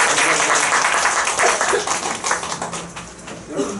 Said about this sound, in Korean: 자, 환영의 박수 한번.